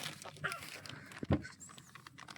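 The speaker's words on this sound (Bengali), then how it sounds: "তো ডাকছে কেমন দেখো মুরগিগুলো, ওই যে চলে যাচ্ছে আর ডাকছে" Chickens calling and clucking outdoors near a field pond, a few scattered calls that are fairly faint over steady background noise, with a slightly louder burst in the middle.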